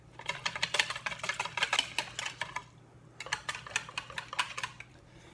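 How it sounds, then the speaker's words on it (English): A whisk clatters quickly against a bowl as cornstarch is beaten into a squash mixture, in two bursts of rapid close ticking separated by a short pause, with a low steady hum underneath. "Then cornstarch, about 2 tablespoons or so. And then whisk."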